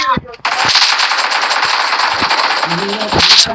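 Loud, sustained automatic gunfire in PUBG Mobile rattles close up for several seconds after a short pause at the start.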